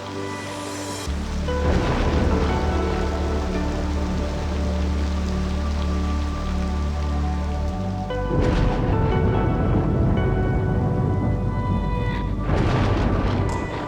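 Steady heavy rain pours in a video game scene, joined by deep rolling rumbles of distant thunder after lightning, loud and continuous with no voices.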